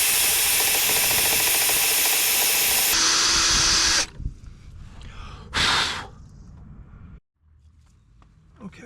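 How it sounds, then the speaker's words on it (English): A loud, steady power drill grinds a pilot hole into metal on a classic Mini Cooper engine steady bar for about four seconds, then stops, followed by a short burst and quieter handling noises. "let's see if we can't do a bit of drilling and get rid of this"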